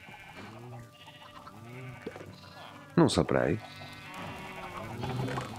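Sheep bleat repeatedly on a sheep farm in Minecraft, several wavering cries overlapping near and loud, with one louder burst midway, while someone talks over them.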